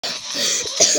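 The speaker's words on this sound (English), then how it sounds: "I told you I have the coughs." A rough, harsh cough and a short throat-clearing burst, close to the microphone, lasting about a second in all.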